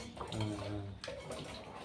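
Water pours and splashes steadily in the background while people talk over it.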